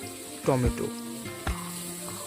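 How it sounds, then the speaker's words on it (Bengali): Tomatoes and onions fry together in oil in a pan for kala chana masala, giving a soft, steady sizzle beneath a voice that speaks in short bursts. "টমেটোকে আর পেঁয়াজগুলোকে একসঙ্গে ভেজে নেব।"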